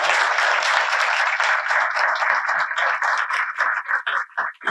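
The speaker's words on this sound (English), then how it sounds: "let's give them all a great round of applause" An audience at a school student-of-the-month ceremony applauds honorees and sponsors, dense sustained clapping at first that thins into fewer, separate claps before dying away.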